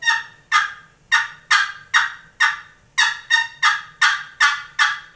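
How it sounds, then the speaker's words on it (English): Clucks from a Primos turkey box call, a dozen sharp, evenly spaced raspy strikes, close and loud with no talking. "So clucks are,"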